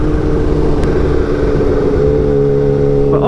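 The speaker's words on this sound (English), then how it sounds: "impromptu test ride of a Ninja H2" A Kawasaki Ninja H2 motorcycle on a test ride holds a steady, loud, close engine drone with strong low harmonics, rising slightly in pitch near the end.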